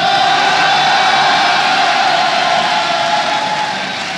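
Crowd of fans cheering loudly at a StarCraft 2 WCS Premier League finals, a dense continuous roar of voices that fades slightly toward the end.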